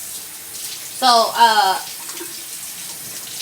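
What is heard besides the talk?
water running from a kitchen tap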